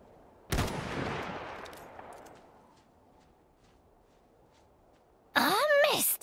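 A single sharp rifle gunshot in the video game Iron Harvest cracks loudly and trails off in a long fading tail, followed by silence and then a short burst of voice at the end.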